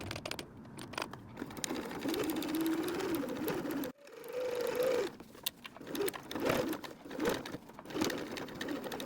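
Sewing machine straight-stitching a strap for a water bottle sling, with bursts of fast mechanical whirring and clatter interrupted by a short pause, close and fairly loud, with no speech.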